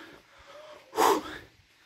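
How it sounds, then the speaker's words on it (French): A hiker grows winded on a steep uphill trail toward Lac de Javen above Megève, letting out one sharp, loud exhale or snort between quieter, ragged breaths, close to the microphone. "Là, vous voyez, je suis un peu essoufflé."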